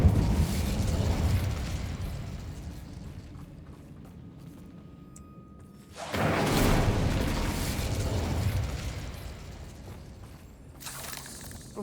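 Incendio fire spell cast in Hogwarts Legacy during a fight: a low rumbling whoosh, then a sudden loud fiery burst that roars on for several seconds before fading, with another flare near the end.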